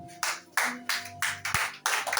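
Congregation clapping in rhythm at a French-language church service, a steady beat of loud, crowded handclaps in bursts with a faint sustained tone underneath.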